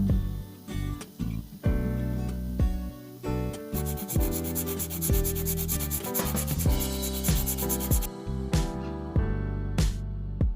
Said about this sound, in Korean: 그래서 이제 이 프레임을 깎아서